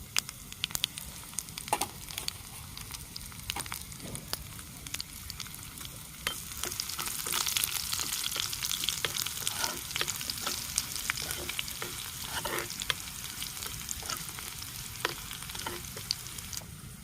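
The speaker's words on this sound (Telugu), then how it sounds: "ఇలా జీలకర్ర, వామాలు, ఒట్టిమిరపకాయలు వేగుతున్నాయి కదండి" Cumin, ajwain, dried red chillies and garlic sizzle in hot oil for a village-style dal tempering, a close, lively crackle punctuated by scraping stir clicks that grows denser partway through.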